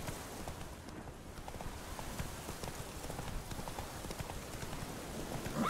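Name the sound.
horse Roach galloping hoofbeats in The Witcher 3 video game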